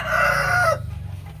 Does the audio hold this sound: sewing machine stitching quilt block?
no